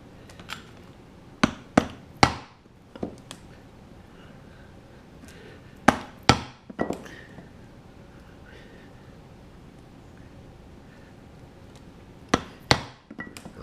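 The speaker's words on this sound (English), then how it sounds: "So I'm going to punch my holes, and then I'm going to put my rivets in." Holes are punched in leather for rivets with a punch and mallet, giving sharp, loud, close strikes in small clusters of two or three separated by quiet pauses.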